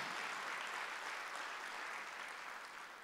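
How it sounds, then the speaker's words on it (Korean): A church congregation at a Sunday worship service claps in a continuous, even wash of applause for about three seconds, heard from a distance and fading slightly toward the end. "박수를 하나 더 해주세요"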